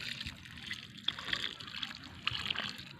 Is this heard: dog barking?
no